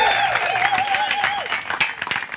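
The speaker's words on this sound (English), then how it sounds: "a huge round of applause for Ghazi AL Balucci." Audience applause for a guest speaker at a public talk, clapping heard under a rising and falling tonal sweep and some background voices, lasting a couple of seconds.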